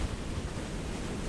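Wind buffets the microphone while cycling along the North Sea coast route in Denmark, a steady, loud low rush with gusty rumble and no voices.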